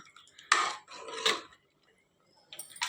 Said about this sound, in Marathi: लगेच कुकरचं झाकण लावा